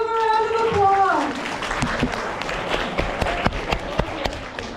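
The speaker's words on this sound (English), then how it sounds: "Give them a round of applause." An audience at a Special Olympics leadership event breaks into clapping after a voice cheers, a dense patter of hands with a few louder nearby claps that continues on its own.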